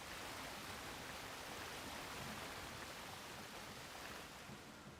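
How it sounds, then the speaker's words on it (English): Rushing waterfall ambience in the Halo 2 video game, set on the Delta Halo ring: a steady, broad wash of falling water that stays constant and fairly faint throughout, with no voices. "I hear a waterfall sound."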